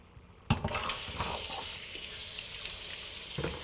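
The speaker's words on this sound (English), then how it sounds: "All right, first you're going to rinse them." Running water pours over fresh tomatoes being rinsed in a kitchen, a steady close splash that starts with a sharp onset and continues alone with slight shifts as the fruit is turned under the stream.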